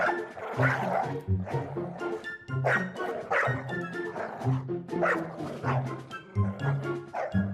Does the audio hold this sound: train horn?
no